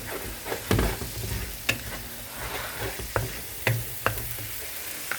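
A hot pan deglazed with white wine for a seafood cassolette, sizzling steadily up close with intermittent scraping and stirring clacks from a utensil, no talk.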